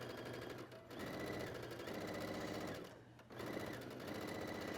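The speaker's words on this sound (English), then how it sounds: "we are going to put a row of basting stitch or stay stitching around the hem allowance" A sewing machine running rows of stay stitching around the hem allowance of a classic tunic: a loud, close, rapid mechanical chatter that pauses briefly twice and then starts again.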